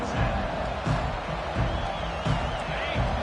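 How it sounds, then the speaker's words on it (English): A college football stadium crowd roars in a loud, continuous wall of cheering and noise, with faint rhythmic thumps pulsing underneath. "This crowd bringing an ear-splitting welcome to their visitors."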